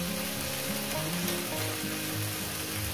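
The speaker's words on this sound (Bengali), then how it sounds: "ঢেঁড়স আর পেঁয়াজটাকে এত সুন্দর করে ভাজবেন" Okra and onion sizzle steadily in a pan, a continuous close crackling fry with faint stirring and no talking.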